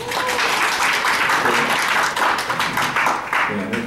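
An audience at a Korean public forum on abolishing the disability grading system breaks into loud, dense applause to welcome a speaker, a sustained wash of many hands that holds level throughout.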